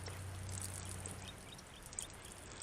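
Rainwater trickles off the drip edge J-channel of a converted bus in light misting rain, a steady, soft, continuous pouring hiss with no voices.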